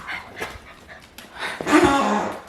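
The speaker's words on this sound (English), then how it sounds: "The dogs were being too loud" Dogs barking and whining indoors, a few soft yips early on, then a louder, sustained bark-howl near the end, fairly close against a muffled room background.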